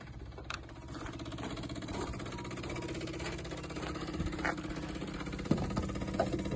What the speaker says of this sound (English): You can hear the tone of the fuel pump change